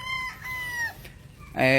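A young gamefowl rooster from a breeder's stock crows close by, giving a couple of strained harmonic calls and then a loud, full crow at the end, with no talking.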